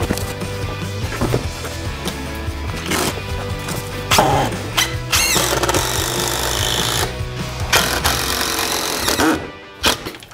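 A power drill drives screws into wooden French cleats on a workshop tool wall, with bursts of close, loud whirring and buzzing that stop and start repeatedly, separated by short pauses and light handling clatter.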